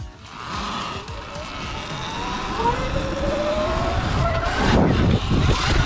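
Sur Ron X and Segway X260 electric pit bikes ride on a pit bike track, with a continuous whining motor drone rising and falling in pitch and rough wind and tire noise throughout.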